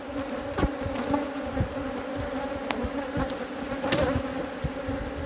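A decent-sized honey bee swarm settled in an empty wooden brood box gives a steady, close, droning buzz, dotted with a few sharp knocks and individual bees zipping past.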